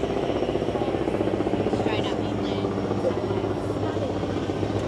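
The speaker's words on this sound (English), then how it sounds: "Helicopter's just gone over." A helicopter passes overhead above a lookout with a bathroom and refreshment area near Horizontal Falls in Western Australia, its steady rotor throb and engine drone continuous and fairly close, with a voice talking over it.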